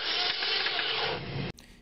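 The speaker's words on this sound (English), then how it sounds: "So if your car won't start and it sounds like this," A rapid, rough mechanical churning of a car engine being cranked over with lost compression from a loose timing chain or belt, loud and steady, cutting off abruptly near the end without catching.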